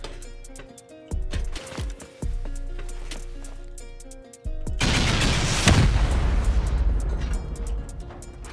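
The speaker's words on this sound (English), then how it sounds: "let's try to send off rockets" Rockets are launched and explode in the video game Rust during a solo raid on a bunker: sharp firing thumps early on, then a loud sustained roaring blast that slowly fades.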